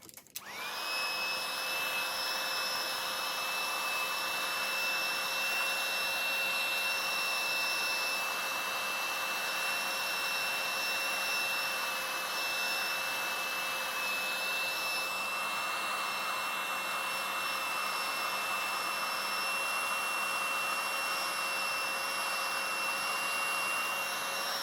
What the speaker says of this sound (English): So I'm just going to use the heat tool again.